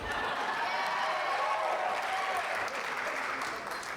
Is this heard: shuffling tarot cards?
no